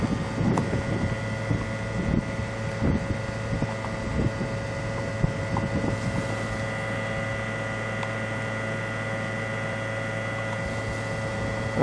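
An inverter air conditioner unit winding up, a steady droning hum with fixed tonal whines and low rumbling that hold evenly throughout, with faint wind buffeting the microphone.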